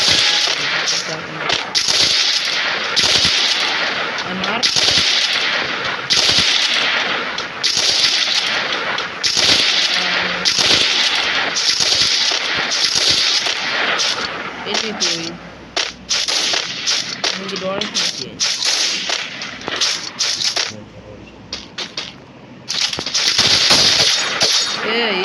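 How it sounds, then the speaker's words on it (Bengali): Gunfire in a video game: rapid, uneven bursts of sharp shots that repeat almost continuously, loud and close, with brief pauses between volleys. "একটা গুলি করে"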